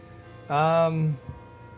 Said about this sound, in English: I love this bell.